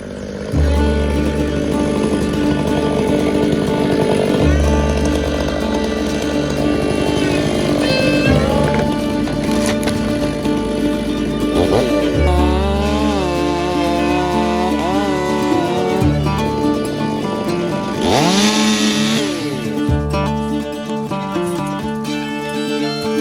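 A chainsaw bucks a felled hemlock in a North Cascades windfall logging area, the engine loud and close, revving up and dropping back to idle several times across the cut.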